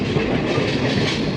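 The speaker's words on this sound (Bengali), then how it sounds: "ট্রেন ফাইনালি এখন শিয়ালদা ঢুকছে" A train pulling into Sealdah station, a dense continuous rumble and rattle of wheels and carriages, close and loud throughout the short stretch.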